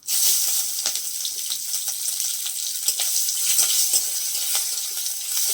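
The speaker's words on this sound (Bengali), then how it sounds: "পেঁয়াজটাকে একটু ভেজে নেবো" Chopped onion frying in oil with panch phoron and bay leaf in a pan, a steady close sizzle with scattered small pops and crackles throughout.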